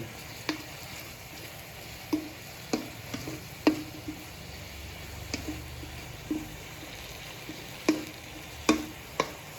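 Curry paste stir-fried in a pan for an Isan-style home-cooked dish, with a steady close sizzle and repeated sharp scraping clicks of the spatula striking the pan every second or so, no talk.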